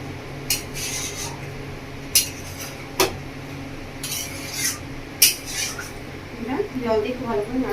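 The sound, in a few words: stirring chicken curry in a pot after adding water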